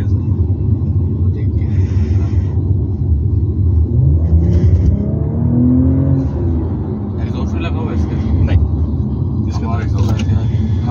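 A BMW M340i in sport mode accelerates from inside the cabin, its engine rumbling low and steady and rising in pitch as it pulls, while someone talks over it throughout.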